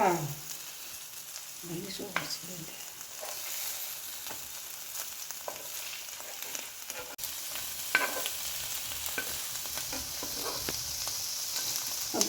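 Hot oil sizzles steadily around frying mackerel heads, just flipped, broken by a few sharp clicks and clatters of a utensil against the pan.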